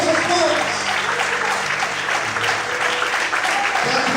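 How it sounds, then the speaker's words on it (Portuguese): A church congregation claps and cheers during an evening worship service, a dense, steady wash of applause filling the room throughout, with a voice faintly audible underneath. "As palmas."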